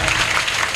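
Applause from the audience at a live Shrimad Bhagwat Katha devotional gathering in Achalkheda village, a steady dense patter of clapping that holds through the whole short moment.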